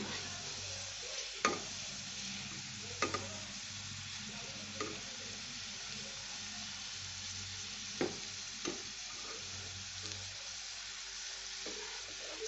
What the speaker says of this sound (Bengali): আপনারা আরও বেশি তেল দিয়ে ভাজতে পারেন আমি একটু কম তেলেই ভাজছি